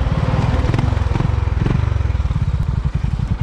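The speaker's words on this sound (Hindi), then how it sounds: "चलिए हसनैन भाई चलाइए आप हंटर 350" A Royal Enfield Hunter 350 motorcycle engine thumps loud and close in a rapid, even pulse before a drag race on a cold evening, its beat loosening toward the end, with no one speaking.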